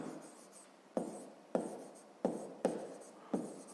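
Pen or chalk writing by hand as numbers are written out for a sixth-grade math exercise, with five sharp tapping strokes at irregular intervals, each followed by a brief scratching trail, close and fairly quiet, no talking.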